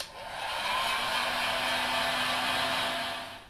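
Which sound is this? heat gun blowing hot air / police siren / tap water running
heat gun blowing hot air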